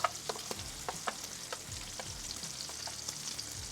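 Onions fry in bacon fat on a flat griddle, giving a soft, steady sizzle and light scraping taps from a spatula.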